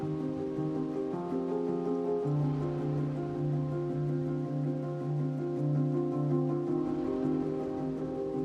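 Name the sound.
rain falling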